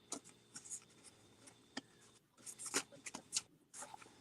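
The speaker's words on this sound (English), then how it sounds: "These cards are hard to shuffle." Soft papery riffles and taps of tarot cards being shuffled, quiet and close, in several uneven bursts with brief pauses between.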